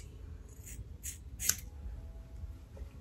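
Scissors snipping through natural, heat-damaged hair during a home big chop: three or four soft, crisp snips in quick succession over a faint, steady background hiss, with no talking.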